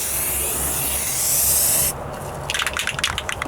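Rustoleum sandable automotive primer sprayed from an aerosol can onto a Ford Ranger rocker panel outdoors, a loud steady hiss lasting about two seconds, then a pause and a series of short rattling sputters.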